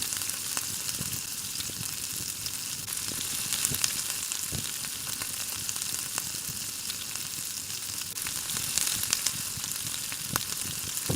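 Crispy chicken pieces fry in hot oil with a constant dense sizzle and crackle, close and fairly loud, broken by occasional sharp pops and spatter as the pieces are turned. No one speaks.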